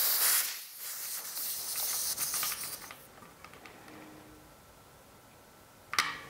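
Air hisses sharply from a bicycle tubeless tyre valve while the valve core is fitted, loud at first, then cut off, followed by faint workshop quiet and a brief click near the end.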